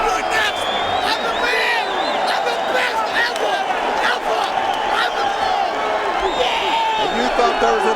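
An arena crowd at a UFC event roars continuously after a knockout, loud and close, with cheering and whoops and commentators talking over it.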